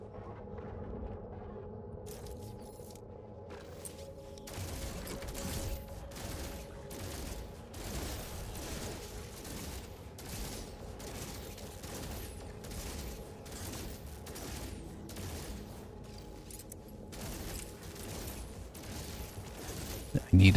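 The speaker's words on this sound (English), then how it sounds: "Whoa, who's shooting?" Gunfire in No Man's Sky crackles as a rapid series of sharp bursts, repeating steadily over a low background hum. A voice talks over it now and then.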